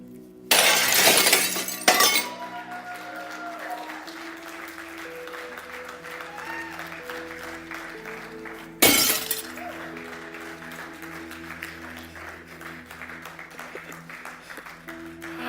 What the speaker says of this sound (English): once we've shattered it, put all that junk in the box